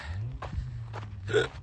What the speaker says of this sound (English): Ooh, hiccups.